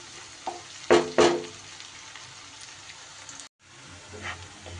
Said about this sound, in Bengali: সমানে এইভাবে নাড়িয়ে নাড়িয়ে হাই ফ্লেমে বেরেস্তাটা কিন্তু আমি তৈরি করে নিচ্ছি